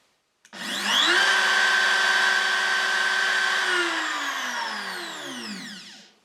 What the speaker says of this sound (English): So let's turn on the router.